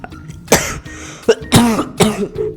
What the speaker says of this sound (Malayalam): 2 ദിവസമായിട്ട് ഭയങ്കര ചുമയാണ്